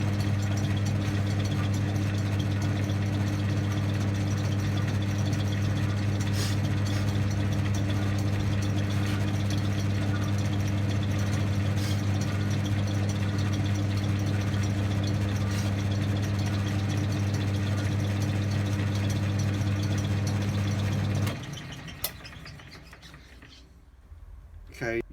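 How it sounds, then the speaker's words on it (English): A lathe runs with a steady, even machine hum and faint mechanical rattle while cutting a thread, then winds down and stops near the end. "And now we're going to start to cut a thread."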